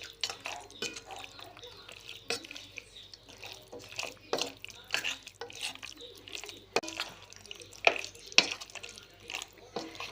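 Half a kilo of raw chicken mixed with spices by hand in a bowl, giving soft wet squelching and slapping sounds in an irregular rhythm, fairly quiet and close with no talking.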